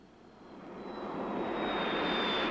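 A GM Firebird II gas turbine engine runs at high speed, a loud steady roaring whoosh with a thin high whine, swelling gradually before cutting off abruptly.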